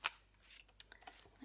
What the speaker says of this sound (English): So let me just cut this.